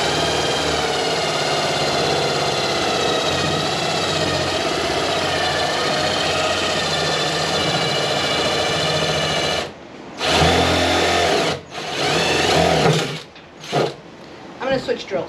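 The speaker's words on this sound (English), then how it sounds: "I'm gonna switch drills. It's too strong." A power drill bores drainage holes through a plant pot, a steady loud whine running for about ten seconds, then several short bursts separated by brief pauses.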